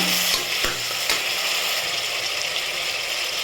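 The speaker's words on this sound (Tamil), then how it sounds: "இப்போ நம்ம தக்காளி சேர்த்துக்கலாம் சேர்த்து நல்லா வதக்கிக்கோங்க" Onions and tomatoes sauté in a pan for prawn biryani, a steady close sizzle with a few sharp scraping clicks from stirring near the start, and no voices.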